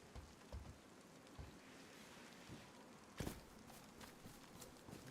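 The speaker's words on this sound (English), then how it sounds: "The rain is not going to let up." Steady soft rain patters outdoors in DayZ, a faint continuous wash broken by occasional heavier drops or thuds, quiet throughout.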